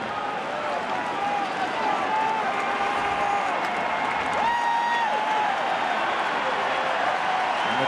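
Steady roar of a large stadium crowd cheering at a Red Sox baseball playoff game against the Tigers, continuous and distant-sounding, with a broadcaster's voice faintly over it.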